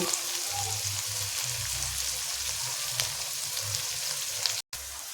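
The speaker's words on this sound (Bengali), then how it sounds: "তো এখানে পেঁয়াজটা ভাজা হয়ে গেছে পেঁয়াজটা গোল্ডেন করে ভেজে নিয়েছি" Chopped onion, ginger and green chillies fry in a wok with a constant close crackling sizzle and a low rumble beneath, broken by a brief dropout near the end.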